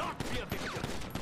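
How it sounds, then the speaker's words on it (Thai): Gunfire in GTA Online, a rapid run of sharp cracks and bursts spread through the moment, fairly loud over game ambience, with a voice talking faintly in the mix. "นี่มาแอบยิงใส่เรา"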